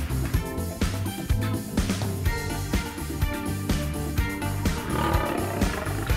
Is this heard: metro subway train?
no